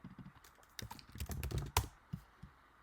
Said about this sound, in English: So let's type hairstyle for.